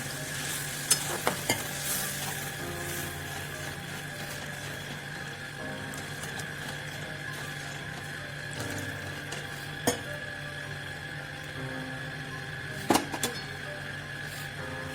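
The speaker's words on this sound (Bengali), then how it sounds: "জলটা দিয়ে আমাদের মশলাটা ভালো করে একটু ফুটতে দেবো" Masala for Bengali shankar fish kalia simmers and sizzles after water goes into the pan, a steady bubbling hiss throughout, with occasional sharp clicks of a spoon against the pan.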